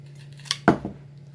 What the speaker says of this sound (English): when you cut just a big cable like this